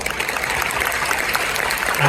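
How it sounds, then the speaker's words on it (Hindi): A large crowd at a stadium event applauds, a steady, dense roll of many hands clapping that sounds slightly distant, with a voice faintly heard over it. "तो एक बार आप सभी जोरदार ताली।"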